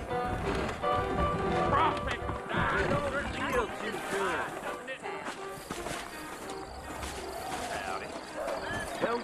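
Horse hooves clip-clop on a trail in the video game Red Dead Redemption, a steady plodding rhythm running under continuous background game sound and talking voices.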